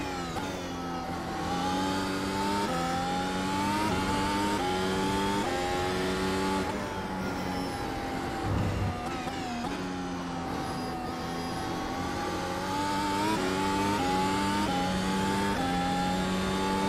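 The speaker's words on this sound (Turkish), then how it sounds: "Baksana abi ne kadar hızlandı araba setup değiştirince." An F1 car in the iRacing sim accelerates hard with DRS open, its loud engine whine climbing through the gears in steady rising sweeps, with a brief dip near the middle, and no talking.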